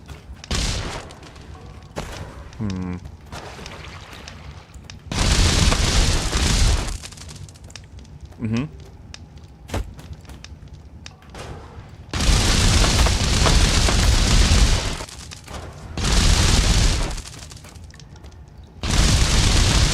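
Grenades explode in a pixel simulator game, several loud, long booming blasts with rushing noisy tails, separated by quieter stretches with small pops and clicks.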